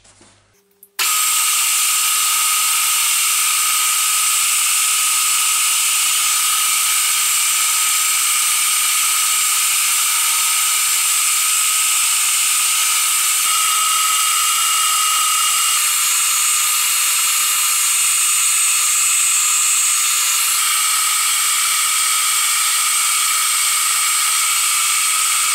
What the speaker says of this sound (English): let's drill 20 holes